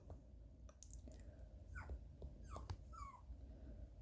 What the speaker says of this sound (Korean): 저 밖에서 저희 멍멍이가 낑낑대고 있어요